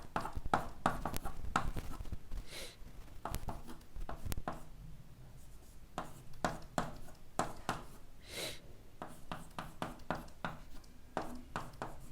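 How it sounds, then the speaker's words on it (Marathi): Chalk or marker writing by hand on a board during a chemistry lesson on amines: a run of quick, dry scratching strokes and taps in irregular bursts, close and fairly quiet, with no talking. "बघा इथं लिहितो"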